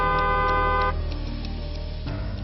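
A car horn blasts loudly and continuously, alone, then drops to a slightly different tone for the last part.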